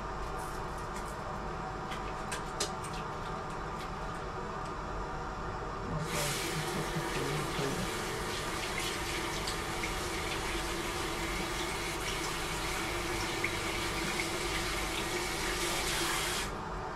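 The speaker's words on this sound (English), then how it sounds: "you have to wash your hand properly" Hands washed under a running tap, a steady stream of water splashing into a sink that grows fuller and louder partway through, close and continuous with no talk.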